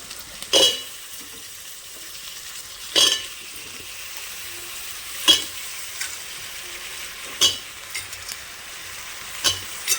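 Drumstick pieces hit a pan of fried onions, green chillies and ginger-garlic paste, giving a soft, steady sizzle. Sharp spoon-against-pan clanks come about every two seconds as the mixture is stirred.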